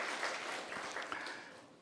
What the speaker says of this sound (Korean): 우리 다시 한번 박수로 크게 축하를 할게요